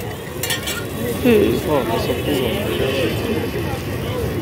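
Veg kebab rolls made from sattu sizzling and being stirred at a busy street food stall, a steady fry hiss with utensil scraping under a man's nearby speech.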